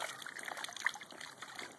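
Water trickling from a garden hose, a soft, continuous dribbling and light splashing, faint and close, with no talking during the brief moment.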